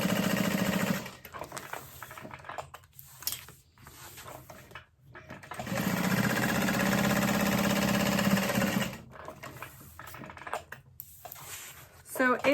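A sewing machine bastes a backpack pocket closed, running in short stitching bursts and then one longer steady run, close by, with a person talking in between.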